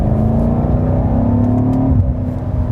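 A 2019 BMW M5 engine revs loudly and steadily up close on a racetrack, then drops sharply in pitch as a gear shift comes near the end, with no talking over it.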